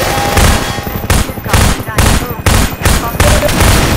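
Rapid machine-gun bursts from a helicopter in the shooter game Half-Life 2, loud and close, coming in several dense volleys separated by short gaps, with a voice talking over the gunfire.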